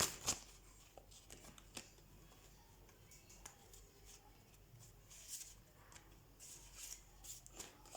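Tarot cards being shuffled by hand, a faint, soft papery riffling and ticking that continues through the stretch with a few sharper flicks, quiet and close with no talking.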